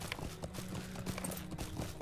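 A horse trots along with steady, rhythmic hoof clip-clops in the Lord of the Rings Online video game, moderately close and continuous over soft in-game background sound.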